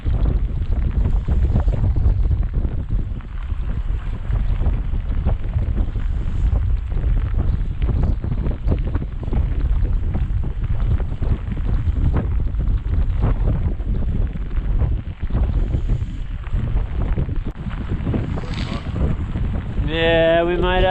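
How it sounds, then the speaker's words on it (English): Strong blizzard wind roars continuously into the microphone on an open boat while fishing for striped bass, a loud steady buffeting rumble throughout, with a brief tonal voice-like sound near the end. "The blizzard kicked in too quick."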